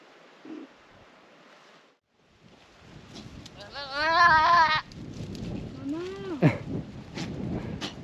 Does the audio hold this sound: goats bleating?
yes